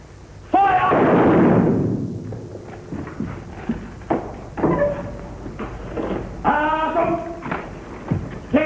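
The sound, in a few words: gunfire volley after an order to fire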